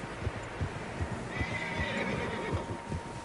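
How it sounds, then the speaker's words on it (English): Several horses neigh and whinny in a PS4 video game, their calls rising over a soft bed of hoof clip-clop and low ambient rumble, fairly close and with no talk. "Horses, quite a few of them."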